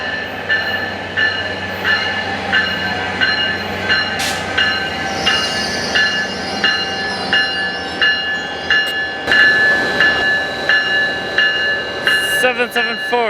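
Train 774 rolls past at Fullerton, its wheels clicking in a steady rhythmic beat over the rail joints beneath a continuous loud rumble, with brief squeals and clanks along the way.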